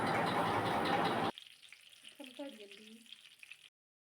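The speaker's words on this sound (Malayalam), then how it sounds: "ചൂടായതിന് ശേഷം നമുക്കിതൊന്ന് എണ്ണയിലോട്ട് ഇട്ട് കൊടുക്കാം." Oats-coated chicken pieces drop into hot oil with a loud, dense sizzle that cuts off abruptly after a second. A quieter stretch follows with faint bubbling and a soft voice speaking.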